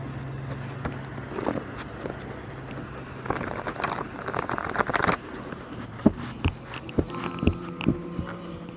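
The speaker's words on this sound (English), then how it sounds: "I'm going to shuffle one more time." Soft riffling and clicking of cards being shuffled, a few bursts followed by scattered taps and flicks, close by with faint background hum.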